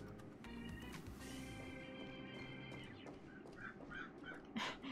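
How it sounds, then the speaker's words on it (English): A crow calls from just outside a window, its harsh caws rising briefly over a steady, busy background hum, most noticeably toward the end. "a real crow sits right outside my window. Makes noise"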